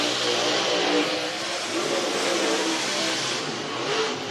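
Super late model race cars at Whynot Motorsports Park's Fall Classic qualifying, heard as a steady, broad engine roar with slight rising and falling revs, somewhat distant and continuous with no talk.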